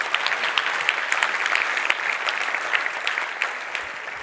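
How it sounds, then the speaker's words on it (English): Audience applause at a conference keynote's closing remarks, dense sustained clapping from a large crowd filling the room for several seconds. "Give her a round of applause."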